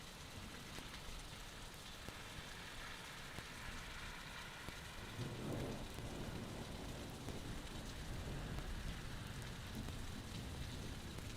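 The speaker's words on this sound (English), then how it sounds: "let me know if you guys can hear the thunder in the background" Steady rain falls at Gerald R. Ford International Airport in Grand Rapids, hissing evenly throughout, while a faint low rumble of distant thunder swells in the middle and fades beneath it.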